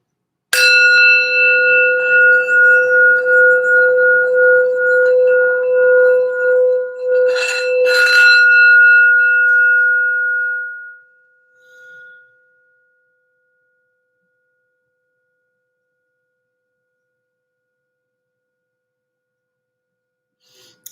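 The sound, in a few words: healing sound bell ringing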